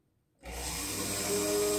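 After a moment of silence, a drill starts up abruptly and grinds steadily into an oiled metal crucifix blank, close and loud, a continuous whirring with a faint high whine.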